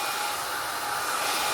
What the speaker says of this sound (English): I'm moving the blow dryer